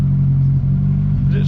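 The engine of a 1972 Ford Pinto with a 4-speed runs steadily up close, a loud, even low rumble that holds for the whole moment without clear revving.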